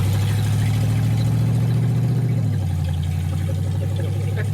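A 1931 Ford Coupe on a test drive, its engine droning low and steady from inside the car, the pitch shifting down partway as it changes speed, loud and continuous with no talking.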